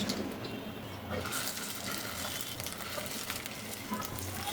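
Battered fish roe fritters fry in hot oil, a steady, dense sizzle that stays close and even throughout with no talking.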